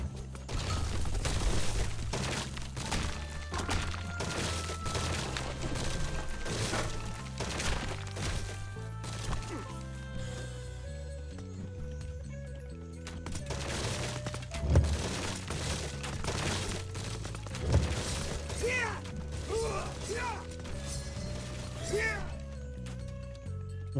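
Battle noise from an Age of Mythology match between Norse and Japanese forces, with naginata riders, archers and Asuras fighting: dense, continuous clashes, thuds and impacts layered over steady game music.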